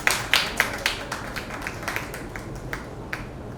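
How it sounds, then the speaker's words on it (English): Applause from an audience at a biography release event, heard as a series of sharp, separate claps that start strong and thin out over a few seconds. "really give him a big applause"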